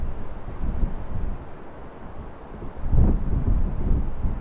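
Strong gusts buffet a camera mounted on a heavy tripod outdoors, a steady low rumble of wind noise on the microphone that swells louder in the second half, with no talking.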